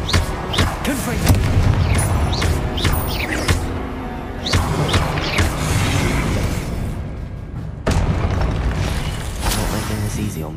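Confringo blasting spells explode repeatedly in Hogwarts Legacy, loud booming bursts scattered through combat noise, with a voice calling out over them.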